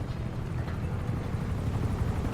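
A steady, low helicopter rotor drone in the video game GTA Online fills the clip, constant and moderately loud with no voices.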